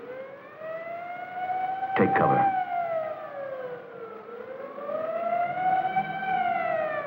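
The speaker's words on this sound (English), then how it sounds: "as directed by the mayor, the siren sounds once more." A 1955 civil defense air raid siren wails loudly, its pitch sliding up and down in long sweeping cycles. A brief voice speaks over it near the start.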